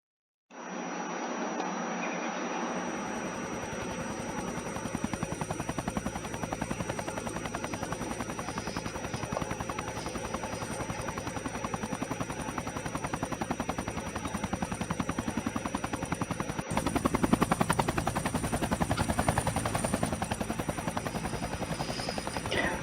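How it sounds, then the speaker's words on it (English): A repaired helicopter in the video game Scraps runs with a continuous loud rotor drone and mechanical buzz for over twenty seconds, steady throughout with a brief surge near the end and no talking. "And finally, repair the helicopter"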